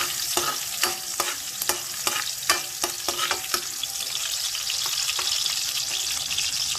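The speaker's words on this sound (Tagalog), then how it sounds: "Magigisa na nga ako guys ng bawang at sibuyas para sa ampalaya ko na may egg." Garlic and onion sauté in hot oil in a pan for a bitter gourd and egg dish, with a steady close sizzle and a run of sharp spatula taps and scrapes that thin out toward the end.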